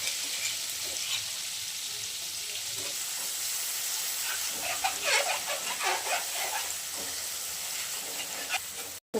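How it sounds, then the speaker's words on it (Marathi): Hot oil sizzling and crackling steadily as chili and garlic fry for a tempering, with bursts of sputtering and a few faint bumps. "मिरची लसूण आणि मिरची फोडणी"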